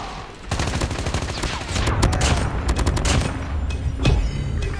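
Rapid gunfire from Call of Duty Mobile, including sniper shots, fills the clip as loud, dense bursts of shots and booms that run almost continuously, with brief distant cracks between them.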